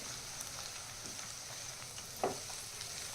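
Ginger-garlic paste fries in a kadhai with a steady, moderate sizzling hiss, broken by one brief utensil clink near the end; no one speaks.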